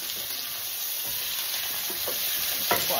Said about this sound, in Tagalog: Isa-gisain lang natin ito.